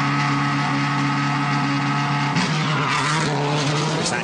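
Subaru rally car in the 2008 Acropolis Rally pulling away into the first stage on gravel, a loud continuous engine drone with a pitch shift and tyre scrabble partway through, close and steady throughout.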